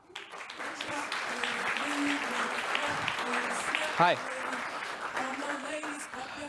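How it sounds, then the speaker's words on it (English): Audience applause and cheering fill the room throughout, steady and lively, with a voice speaking briefly over the clapping. "Thank you for the applause and the awesome."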